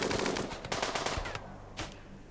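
Rapid gunfire in the video game Rimworld, several bursts of automatic shots close together, loud and alone for the first second and a half, then sparser single reports.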